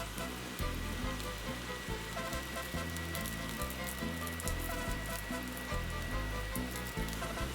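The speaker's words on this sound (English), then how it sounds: "a hot oiled pan, we're adding our taquitos" Taquitos frying in a hot oiled pan, a dense, steady crackling sizzle throughout with background music underneath and no voices.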